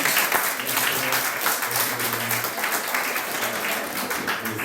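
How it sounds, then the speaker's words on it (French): A church congregation applauds to welcome visitors, sustained dense clapping at moderate loudness, with low murmuring voices and a faint tone beneath it. "Nous pouvons applaudir pour leur venue,"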